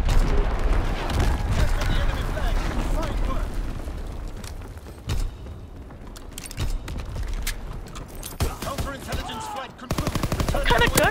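Toggle-action rifle fire rings out in a WWII capture-the-flag video game, sharp repeated shots and bursts amid battle noise and mechanical clatter, loud and irregular, with a player's voice talking over parts of it.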